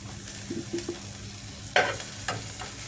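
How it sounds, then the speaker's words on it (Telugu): Garlic pieces fry in butter alongside popping mustard seeds in a pan for butter mushroom fry, a soft steady sizzle with a few light taps early and two sharper spoon scrapes near the end. "కొద్దిగా బటర్లో వెల్లిపాయ ముక్కలను ఫ్రై కానిద్దాము"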